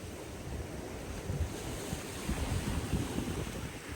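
Strong wind and rushing waves wash steadily around a sailboat far out on the Southern Ocean, a dense, even roar of gusts and surf with no voices.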